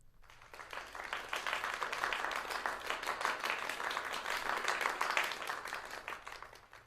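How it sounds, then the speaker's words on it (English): A round of applause from the audience at a teen monologue showcase in an acting studio swells in quickly, stays full and busy for several seconds, then tapers off, quiet and unaccompanied by speech. "as soon as you hear the round of applause, you can go ahead and start your piece"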